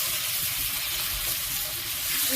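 Water carrying leftover mustard-poppy paste hits a hot pan, giving a steady, dense sizzle throughout with no pauses.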